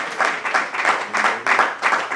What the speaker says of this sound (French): Applaudissements quand même pour le public et même pour le jury.